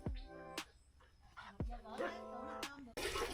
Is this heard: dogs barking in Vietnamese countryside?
yes